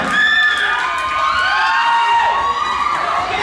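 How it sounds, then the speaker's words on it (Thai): At a 2015 staff party, a lively crowd cheers and whoops with rising and falling shouted voices for manager Jo, loud and close throughout, with any clapping blended into the din. "อาเสียงปรบมือให้กับผู้จัดการโจด้วย"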